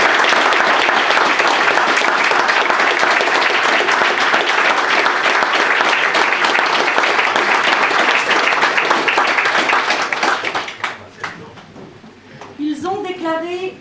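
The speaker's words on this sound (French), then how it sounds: "Vous pouvez applaudir." Wedding guests applaud after a civil marriage ceremony, loud sustained clapping that tapers off into scattered claps, with a voice speaking at the close.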